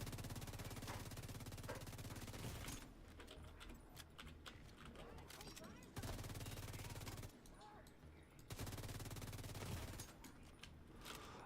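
SMG fire in a video game, long rapid bursts of gunshots broken by short gaps, loud and close, with other game sounds between the bursts.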